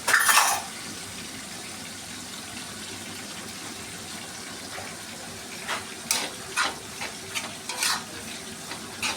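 Soft, steady sizzling of grated coconut frying in oil, punctuated by a sharp scrape at the start and several brief stirring scrapes near the end.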